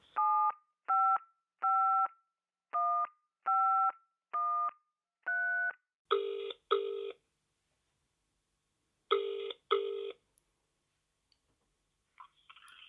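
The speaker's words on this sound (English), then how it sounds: "I'll call him now." A phone number is punched in as a string of short, evenly spaced touch-tone beeps, followed by two pairs of ringback tones with a silent gap between them, clear and close with no talking.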